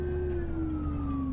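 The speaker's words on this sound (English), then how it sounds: "outfit the entire fleet with a lower frequency siren" Honolulu ambulance Howler low-frequency siren holding a steady, slowly falling tone with a deep low rumble beneath, loud and continuous throughout, amid road traffic.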